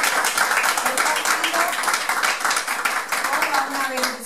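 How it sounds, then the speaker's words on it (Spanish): Audience at a gathering clapping together in a loud, dense round of applause, many hands close by, steady throughout with a few voices faintly mixed in. "Vamos a darnos un gran aplauso."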